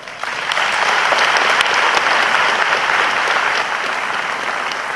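A dense, steady round of applause from a debate audience welcomes Professor Venansius Baryamureeba onto the stage at the 2016 presidential debate, loud and sustained with scattered sharper claps and no speech.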